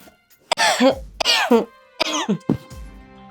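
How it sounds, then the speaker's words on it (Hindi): A voice lets out several strained, breathy bursts of stifled sneezing in quick succession, close to the microphone. "खांसी नहीं, छींक आ रही थी"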